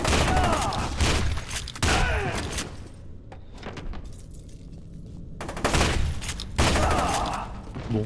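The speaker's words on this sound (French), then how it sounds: "Fusil à pompe." Shotgun blasts from the video game F.E.A.R. 2 fire in a few loud, separated booms with game sounds between them, and no one speaks.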